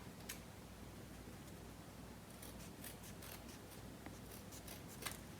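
Scissors cutting paper or cotton material for a children's craft, a series of faint, quick snips and rubbing at a quiet distance with no talk.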